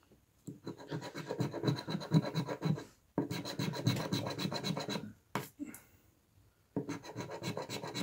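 An illiko scratch card being scratched off, rapid rasping scraping strokes in steady bursts separated by short pauses, close and fairly loud, with no talking.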